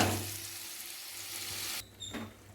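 Tomato and onion gravy sizzles and bubbles softly as it is stirred in a pan, a steady frying hiss that stops abruptly, followed by a brief scrape.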